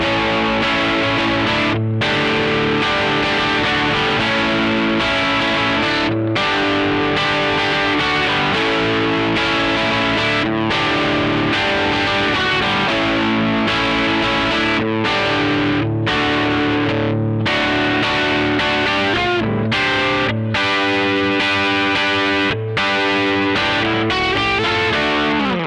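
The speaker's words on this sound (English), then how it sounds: "So I'll move on to the overdrive sounds now." A Gretsch G5622T semi-hollow electric guitar with Bigsby plays through an amp's overdriven dirty channel on the bridge pickup at about two-thirds gain, with loud continuous crunchy riffing and chords and brief stops between phrases.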